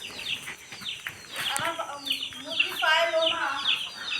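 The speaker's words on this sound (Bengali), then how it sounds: "আর এই যে মুরগিকে ডাক দিল, মুরগি সব এখন খাবে, খাওয়ার জন্য চলে আসছে।" Farmyard chickens cluck in a scattered, busy chorus as they gather to feed, close by, with a person's voice and calls mixed in among the birds.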